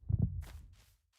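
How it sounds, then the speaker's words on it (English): The Minecraft warden's heartbeat in a modded game, a deep double thump that lingers briefly with faint ambient game sound afterward. "I hear the warden heartbeat!"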